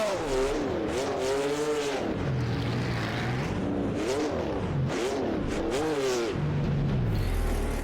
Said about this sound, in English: engine's a tad loud